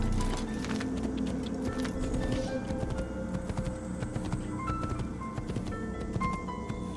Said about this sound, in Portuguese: Vou pegar o cavalinho branco.